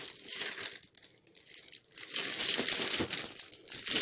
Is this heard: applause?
no